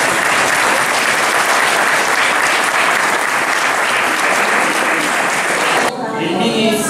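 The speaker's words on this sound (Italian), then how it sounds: "che prego salutare con un caloroso applauso di benvenuto" A crowd welcomes the Italian Justice Minister with loud, sustained applause at the Pestalozzi school, dense and continuous for about six seconds before cutting abruptly into a quieter room with a voice starting to speak.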